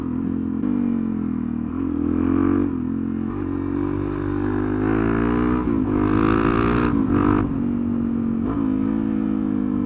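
A motorcycle on a ride, its engine droning loudly and continuously with the pitch rising and falling as the rider revs and eases off, and bursts of rougher, harder acceleration.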